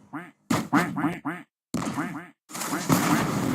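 Ducks quack in several short bursts of repeated nasal calls, loud and close, with brief silent gaps between the groups and a denser, noisier stretch of quacking at the end.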